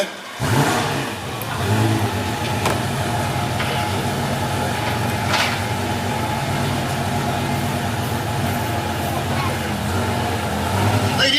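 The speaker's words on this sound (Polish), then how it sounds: "odpalmy w takim razie tą piorunującą maszynę" A vintage sports car engine fires up and revs loudly at a classic car show, its roar holding steady with rising bursts, while people talk faintly in the background.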